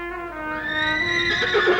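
A horse named as a noble steed whinnies loudly in a stable, one long rising, quavering neigh that swells and grows harsher toward its end, heard alone without talk.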